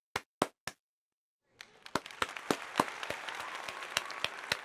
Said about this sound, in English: Bigger applause